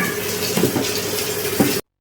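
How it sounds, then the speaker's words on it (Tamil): Water pours steadily into a pan of potato fry seasoned with turmeric and chili powder, a continuous close splashing gush lasting under two seconds before cutting off abruptly. "இப்போ தண்ணி ஊத்திக்கலாம்."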